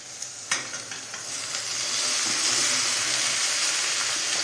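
Paste tipped into browned onions in a pan over a low gas flame, a burst of clatter followed by a loud, steady sizzling hiss that builds and holds.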